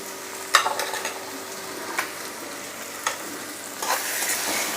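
Spices and ingredients frying in a pan for butter paneer masala, a continuous soft sizzle broken by a few sharp scrapes of a stirring spoon against the pan.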